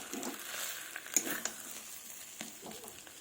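Mutton sizzles in a pan as it is fried down with spices, a quiet crackling hiss with a few sharp pops and stirring sounds, no talk.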